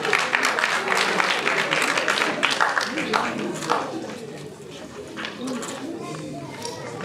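Applause from an audience at a book festival, thick clapping at first that thins and fades toward the end, with footsteps and voices talking over it.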